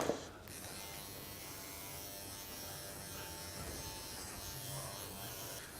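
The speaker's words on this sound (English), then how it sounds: "So we're continuing to clip over the body, down the shoulder, to the top of the leg" Electric dog clippers buzzing steadily as they cut through a cockapoo's coat over the body and shoulder, a close, quiet, even drone with no talking.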